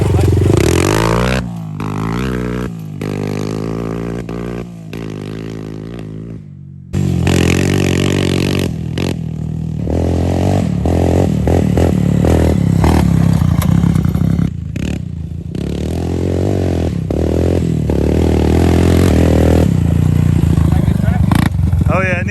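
A Suzuki LTZ 250 ATV engine revs hard and steadily, holding near a rev limiter with rising and falling pitch, loud and close, while people talk over it.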